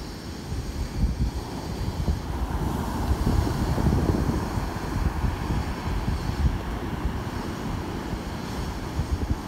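Strong sea waves from a storm's tail crash and surge continuously onto a beach, a loud, dense roar with rumbling low surf and gusty wind buffeting the microphone throughout.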